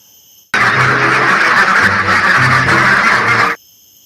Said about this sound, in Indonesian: ini adalah seekor bebek